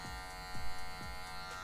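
An electric hair clipper set to zero hums steadily at close range, its motor tone shifting slightly as it runs through a boy's hair, with a louder swell at the middle of the pass.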